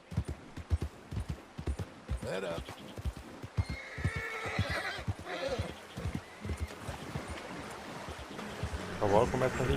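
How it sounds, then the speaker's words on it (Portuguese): A horse in a video game neighs and whinnies repeatedly over steady clip-clopping hoofbeats and a soft trickle of running water. "O cavalo começa a rinchar demais."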